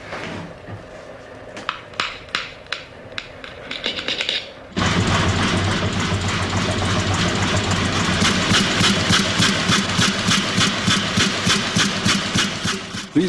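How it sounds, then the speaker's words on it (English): Single-cylinder horizontal oil engines thud steadily while compressing air for a lighthouse diaphone fog signal, first with sparse knocking beats, then swelling into a loud, fast, regular chugging that runs on without voices. "These beautiful single-cylinder horizontal oil engines compress the air for the diaphone fog signal."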